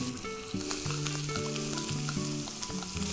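Onions frying in oil for a tempering, a steady close sizzle with light stirring clinks, no voices.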